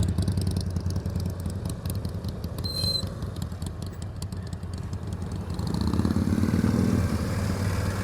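A motorcycle ridden at slow speed during practice, heard as a steady engine putter and idle-like rumble close by that swells slightly toward the end, with faint clattering and no talk.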